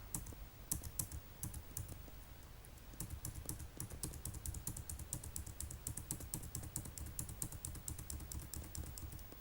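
Keys clatter on a computer keyboard as enter is pressed again and again, a steady close run of quick taps lasting several seconds with no speech.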